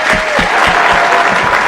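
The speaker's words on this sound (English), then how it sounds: "give a round of applause" Conference audience applauding panelists at a healthcare business event, a short burst of steady, close hand clapping filling the room.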